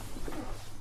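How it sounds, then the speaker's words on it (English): Pigeons or doves cooing faintly in the background during an electronics repair session, a soft low murmur over steady room noise. "Birds, yes, birds."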